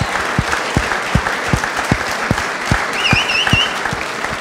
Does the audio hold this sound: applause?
yes